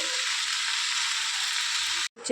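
Chicken kosha frying in a pan, a steady loud sizzle running unbroken for about two seconds before cutting off abruptly near the end.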